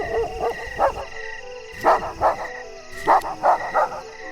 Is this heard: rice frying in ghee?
no